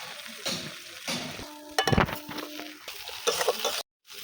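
Spice paste of mustard paste, salt and turmeric sizzles and fries in oil in a pan for a small-fish curry, with steady crackling, stirring scrapes and a brief clink of utensils, close and loud, before cutting off.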